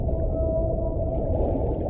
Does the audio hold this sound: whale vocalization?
yes